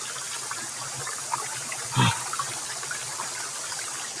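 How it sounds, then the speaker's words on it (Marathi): Small waterfalls of clear water flow and splash continuously in a steady broadband rush, with one brief louder splash near the middle, in the Sahyadri hills at Chorvane, Konkan. "छोटे धबधबे आहेत. पाणी एकदम स्वच्छ आहे."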